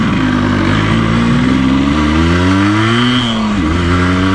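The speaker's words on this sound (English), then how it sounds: "That lovely 2-stroke power band in there." A 1984 Yamaha RS 125 two-stroke motorcycle revs up and down, its buzzing engine note climbing and falling in waves, loud and close with no talking.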